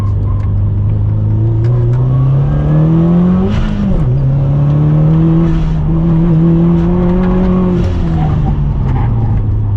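A car pushed hard on a race track on track tyres gives a loud, close engine drone that climbs steadily in pitch, dips briefly around a shift, then pulls up again, with faint tyre and wind noise beneath.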